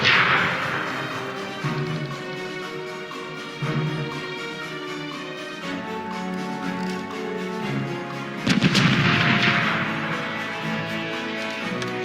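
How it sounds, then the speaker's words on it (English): Ship cannons fire in a naval battle in the pirate video game Corsairs Legacy, a few sharp booming blasts spaced seconds apart over a steady game soundtrack, with the heaviest volley near the end. "Open fire! Prepare canister shot for battle!"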